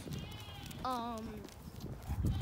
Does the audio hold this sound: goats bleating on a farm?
yes